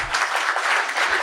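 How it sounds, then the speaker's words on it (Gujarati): An audience at a Swaminarayan religious discourse claps together, a steady patter of applause that carries evenly through a short burst with no talking over it. "એટલે તાળી પાડે"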